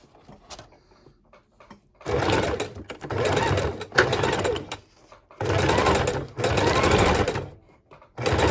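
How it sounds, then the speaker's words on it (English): Sewing machine stitching through cardstock junk journal pages, with quiet handling clicks first, then several loud steady bursts of rapid mechanical whirring separated by short pauses. "Pop it right up in the sewing machine."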